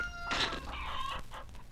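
A chicken clucks and squawks briefly up close, a short burst of fowl calls with nothing else around.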